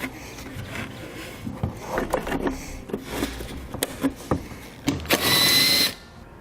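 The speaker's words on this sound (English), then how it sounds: "Then we can reinstall our tail light." Installing a tail light on a 2011 Chrysler Town and Country brings scattered plastic clicks, knocks and rubbing sounds, close up, ending with a short whir of a power driver.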